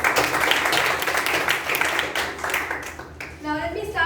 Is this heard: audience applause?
yes